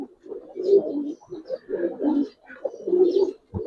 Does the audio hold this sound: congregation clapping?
no